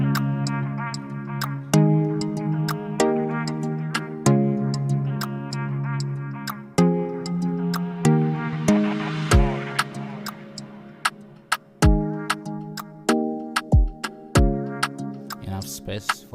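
An afroswing beat produced in FL Studio plays for about sixteen seconds: sustained chords over steady ticking percussion, with deep kick drops and a rising sweep in the middle, loud and with no voices.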